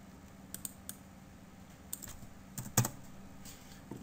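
Keystrokes tapping on a computer keyboard at a quiet desk, a few scattered single clicks followed by a short quicker burst of typing, close and fairly soft with no talking.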